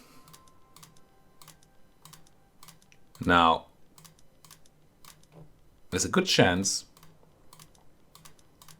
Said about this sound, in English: Let's go ahead and do all the manual clicking.